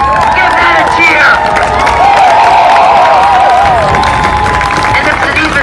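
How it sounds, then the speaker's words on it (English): A rally crowd cheers and whoops steadily at close range, a dense wall of voices and shouts with some clapping mixed in, holding at full loudness throughout. "Give that a cheer."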